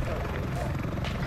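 An Arma 3 helicopter drones steadily at close range, its low rotor and engine rumble filling the background while a person talks over it.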